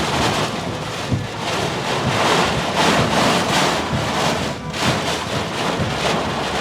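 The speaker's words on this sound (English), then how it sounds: "High winds." High winds from a tornado storm in Adel, Georgia roar steadily and loudly, a dense, broad rush of gusts and driving rain that barely lets up, with no voices heard.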